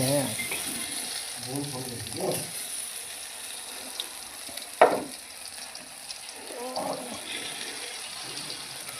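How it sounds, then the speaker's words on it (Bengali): Potatoes frying in a hot kadai over a lowered gas flame give a continuous, fairly quiet sizzle with one sharp click partway through, while a voice speaks softly at times. "তা আলুটাকে আমরা একটু ফ্রাই করে নেবো সুন্দর করে"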